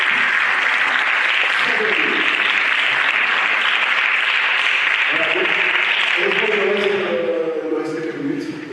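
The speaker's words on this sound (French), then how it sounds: "je vous demande de m'applaudir s'il vous plaît" Audience applause at a discussion event on Africa's future: thick, steady clapping from a crowd filling most of the stretch, then thinning as a voice starts speaking over the last few seconds.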